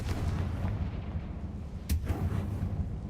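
A Confringo blasting spell from the Hogwarts Legacy video game goes off as a single sharp burst near the middle, cutting through a steady low rumble of game ambience.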